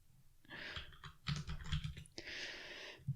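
Rapid keystrokes on a computer keyboard tap out irregular bursts of clicks, close and clear, with brief pauses between flurries while someone codes in a terminal.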